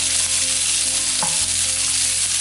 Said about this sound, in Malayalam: അത് അതിലേക്ക് ഇട്ട് കൊടുക്കാം. എന്നിട്ടൊന്ന് വഴറ്റി കൊടുക്കുക.